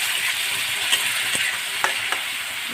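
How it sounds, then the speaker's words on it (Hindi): Onions sizzle steadily in hot oil, a close, hissing crackle with a few light clicks of stirring, blended onion paste frying lightly for Bengali-style doi chicken. "इसको हल्का फ्राई करूँगी"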